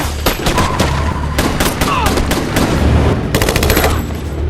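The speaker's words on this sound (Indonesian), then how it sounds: "sehingga terjadilah aksi baku tembak antara mereka" Film gunfight with rapid bursts of automatic gunfire and scattered single shots, loud and dense against a rumbling action-scene background, with the volleys clustering in several waves.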